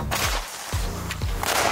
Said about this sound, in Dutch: Dat is een hele grote knetterbom.